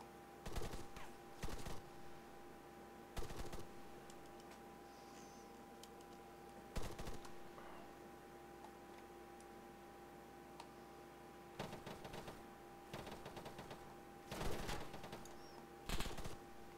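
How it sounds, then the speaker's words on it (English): A big gun firing in Arma 3, distant, irregular heavy shots spaced a second or more apart, some in quick doublets, over a steady low engine-like hum. "That'd be that big gun chasing us."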